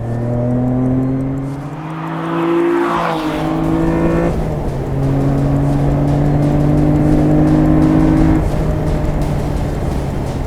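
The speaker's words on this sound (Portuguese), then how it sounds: "ao nível da sonoridade, ouçam este V6 da Toyota" Toyota V6 engine of an Adamastor P003RL sports car on the Braga circuit, loud and close, revving through gear changes with a steady rising and falling drone and no voices over it.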